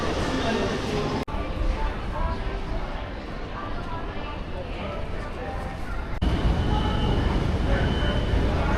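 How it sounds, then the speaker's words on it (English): A metro train rumbles through a tunnel in Chongqing, a loud, steady, broadband roar that holds throughout and swells slightly toward the end. "The metro is somewhere in this tunnel."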